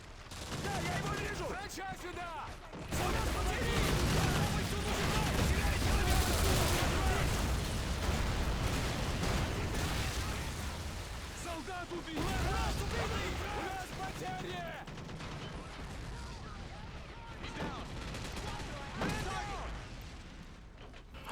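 Dense battle gunfire in a Call of Duty World War 3 mod defense match, rifle bursts and sniper shots overlapping in a constant loud barrage with distant explosions, while a voice talks throughout.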